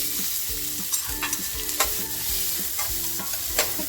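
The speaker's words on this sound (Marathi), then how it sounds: "तर बघा आपलं तेल तापलेलं आहे तर कांदा टाकते" Chopped onion frying in hot oil in a large kadhai, with a steady sizzle and repeated spoon stirring and scraping at a close, even level throughout, no talking.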